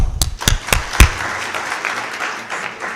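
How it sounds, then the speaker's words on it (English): Audience claps at a G20 youth dialogue panel, several sharp, separate claps spaced through the first second, followed by a softer scattered patter of hands. "I want to teach us all to clap"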